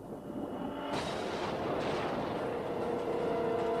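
A bomb blast in the film Far Cry: a heavy, sustained explosive roar with a rumbling tail, loud and close, with no voices over it.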